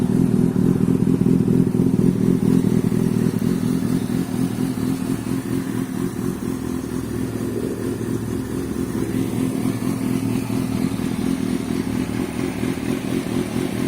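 A 2005 Kawasaki ZX6R 636 sport bike, running after a fuel pump, coil pack and spark plug replacement, idles steadily up close with a loud, even rumble. There are no revs and no voices.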